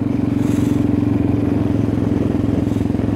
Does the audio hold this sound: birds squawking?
no